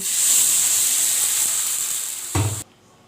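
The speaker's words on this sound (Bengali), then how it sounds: "এখন আমি চালটাতে গরম পানি দিয়ে দিব।" Hot water poured onto fried biryani rice in a pan throws up a loud, steady sizzle and hiss that swells briefly with a burst of steam, then cuts off abruptly.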